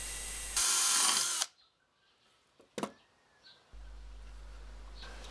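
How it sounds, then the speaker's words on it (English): A power drill runs hard as a 2mm bit bores a hole through a rod for a home-made handscrew clamp, a loud steady whine in two bursts separated by quiet, with a brief clatter between them. "use a 2mm drill bit to make the hole through the rod"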